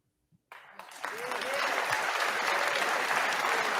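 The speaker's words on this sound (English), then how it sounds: "Who the fuck is clapping?" Audience clapping bursts in after a brief quiet moment at a political event, building quickly into steady, full applause from many people. A few faint voices can be made out beneath it.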